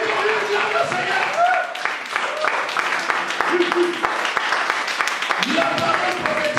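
A church congregation applauds and cheers in a dense, continuous wash of clapping, loud and sustained, with a preacher's voice and shouts over it.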